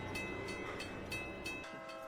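A train rumbles by in a movie scene with rhythmic clickety-clack over the rails and a steady mechanical roar, heard faint and somewhat distant with no voices.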